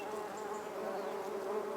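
Honey bees hum at a frame hive, a steady dense buzz that holds throughout at moderate loudness with no voices.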